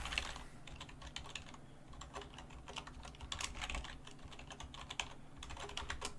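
Someone types a password on a computer keyboard. The key clicks come quick, uneven and close, running throughout at a low level with no talk.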